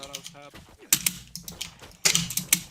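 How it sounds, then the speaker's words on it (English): Clicky mechanical keyboard keys clatter close up in quick, uneven bursts during gameplay, with a brief tonal blip at the start. "my mechanic keyboard's loud"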